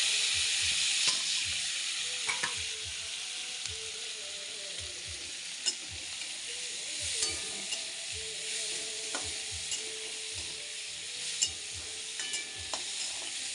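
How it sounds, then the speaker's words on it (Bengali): Onion, tomato and green chili fry in the oil left over from frying prawns, giving a steady close sizzle with scattered scrapes and taps of a spatula throughout, and no talking. "এবার ফ্রাই করে নিব পেঁয়াজ টমেটো"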